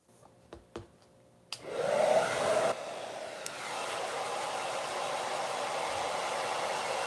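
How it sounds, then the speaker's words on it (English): A hair dryer switches on with a click and blows steadily over fur being restored, a loud continuous whooshing hum after a few faint knocks. "Again, I'm moving the hairdryer around,"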